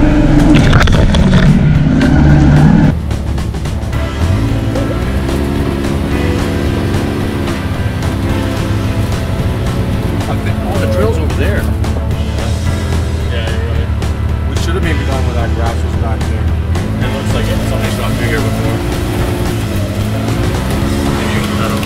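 An X3 side-by-side off-road vehicle blazing along a private-property dirt trail, its engine droning loud and steady throughout with rough rattling and wind noise, and a voice briefly talking at the start.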